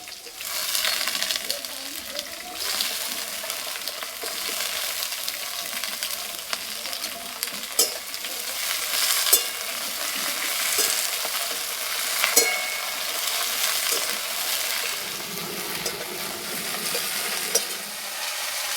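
Chopped Malabar spinach buds and papaya fry in a pan, giving a steady close sizzle with occasional scraping stirs and small clicks throughout.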